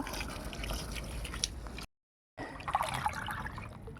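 Water pours steadily from a mug onto a plant pot with a rushing, splashing sound, cut by a short moment of silence before the pouring resumes.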